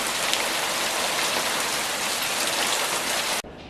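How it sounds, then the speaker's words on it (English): Hail falls steadily in a Dallas, Texas back yard during a summer storm, a dense, loud, constant patter of stones on surfaces that cuts off abruptly near the end. "it's still hailing"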